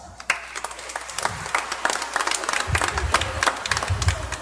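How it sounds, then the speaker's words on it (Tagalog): A church congregation claps loudly together, a burst of applause starting sharply and continuing as a dense, sustained patter with a few voices mixed in. "Pumalakpak ng malakas."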